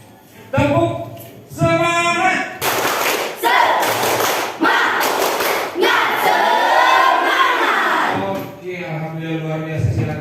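A classroom group claps in rhythmic bursts with thumps and shouted chants between them, loud and close, with voices mixed in.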